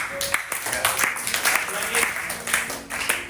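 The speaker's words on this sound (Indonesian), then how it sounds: "Bagus sekali, beri aplaus." A classroom of students applauds during a teaching exam lesson, with steady, busy clapping running through the whole stretch alongside talk.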